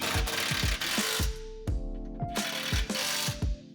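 Rapid metallic ratcheting and clanking close by as bolts on a car's rear driveshaft are screwed in, a continuous rhythmic rattle with repeated knocks throughout.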